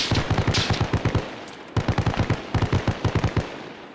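Rapid rifle fire in the military shooter Arma Reforger, loud close bursts of evenly spaced shots separated by brief pauses, each burst a quick run of sharp cracks.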